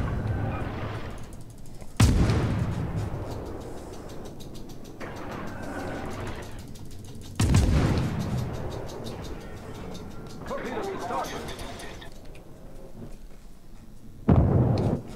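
Loud gunfire and explosive booms in a video game, three heavy blasts with long decaying tails spaced several seconds apart, over ongoing rumbling battle noise and occasional talk.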